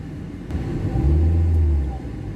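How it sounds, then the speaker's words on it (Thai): A car engine revs up during an OBD2 smart gauge test, a low rumbling rise that swells, holds for about a second and then eases back, close and steady with no talk. "เดี๋ยวผมลองอเร่งเครื่องดูนะครับผม"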